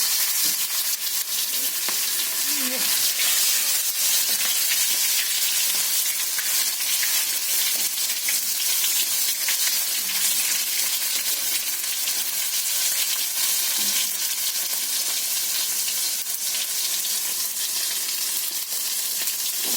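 Tomatoes and whole green chilies fry in a pan with a steady, loud sizzle and crackle that runs without a break, broken only by small pops and the occasional stir.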